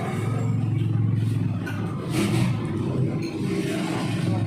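A truck drives past on a rural road, a rumbling engine and rattling body that swell to a peak midway and then fade, heard from a moderate distance with no talk.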